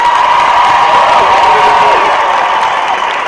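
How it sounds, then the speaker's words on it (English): A large live audience at an event claps and cheers continuously, a loud, dense wash of applause with shouts and whoops layered on top, sustained throughout. "by clapping your hands and making noise, let us know if you're enjoying this event we put together for you"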